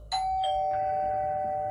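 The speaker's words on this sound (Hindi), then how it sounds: "दरवाजे की घंटी बजी।" A doorbell rings in a quiet home with a sudden bright electronic chime of a few stepped tones, then one clear tone that holds and rings on alone.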